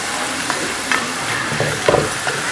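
Food fries in a pan with a constant crackling sizzle up close, broken by a few sharper pops and stirring scrapes, with no voices.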